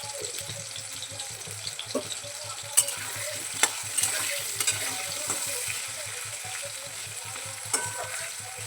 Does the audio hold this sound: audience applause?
no